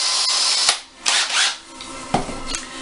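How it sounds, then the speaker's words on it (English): A power drill fitted with a roughly 13/64 bit bores a hole through the center of a metal vent hood during a repair, in short uneven whirring bursts with clicks and pauses between them, close and fairly loud. "And I'm going to bore a hole in the center here."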